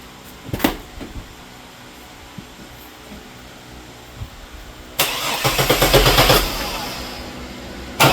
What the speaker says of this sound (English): So now we'll start the engine.